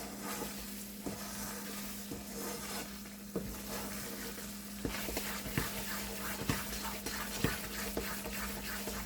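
A spoon stirs powdered sugar into a thick milk-powder mixture in a pan, with repeated scraping clicks against the metal over a low, steady hum.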